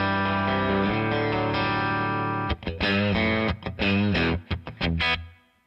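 A 1955 Telecaster electric guitar through an Analog Outfitter Sarge amp plays a sustained distorted chord, then a run of choppy, rhythmic strummed stabs with short gaps before ringing out and fading, no voices.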